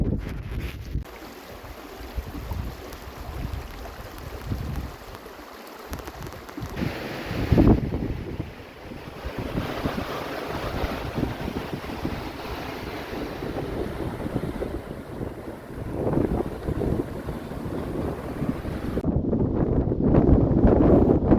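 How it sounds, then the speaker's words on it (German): Strong wind buffets the microphone on a lake in Lapland during a packrafting and fishing trip, a continuous loud roar with gusts and water lapping, rising toward the end. "Mega viel Wind."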